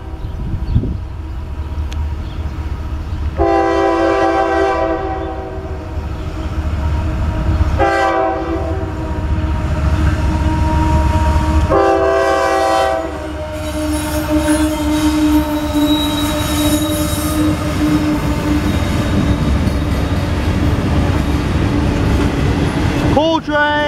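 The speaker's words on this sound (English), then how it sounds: "Cool train." A loaded CSX northbound coal train rolls through Marion, Ohio, with loud squealing wheels, long repeated horn blasts and a continuous rumble of rail cars passing close by.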